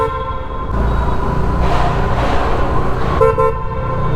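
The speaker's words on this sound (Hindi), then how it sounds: "कितनी तेज गूंजता है यार यहाँ पे हॉर्न स्कूटी का" A TVS Jupiter scooter horn blares loudly inside a tunnel, one long sustained toot that rings and echoes off the walls for several seconds before cutting off, with engine rumble beneath.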